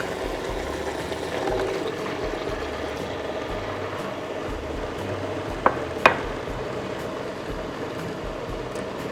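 Mixer whirling Dutch baby pancake batter with milk, a steady, moderately quiet whirring drone that runs unbroken, with a couple of brief clinks near the end.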